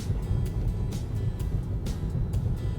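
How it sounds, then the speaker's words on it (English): Inside a moving 2018 Mazda CX-5 Grand Touring FWD 2.5, the tires thump over road expansion joints in a series of short, sharp knocks, roughly one every half second, above a steady low road rumble. "You can probably hear the thumps of the road, the expansion joints, and whatnot"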